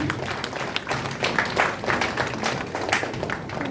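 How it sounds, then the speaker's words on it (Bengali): An audience at a Bijoya celebration of a South Kolkata Sylhet association claps continuously, the dense applause holding steady and fairly loud throughout. "একটু জোরে করতালির মাধ্যমে ওনাকে"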